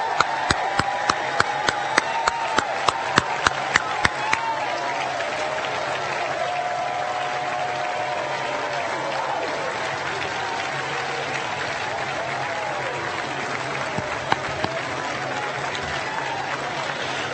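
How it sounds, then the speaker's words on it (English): A large crowd at a Special Olympics opening ceremony applauds the athletes, long sustained clapping with a few sharp nearby claps early on and occasional cheers, spreading through a big echoing venue. "Each and every one of you deserve applause for your courage."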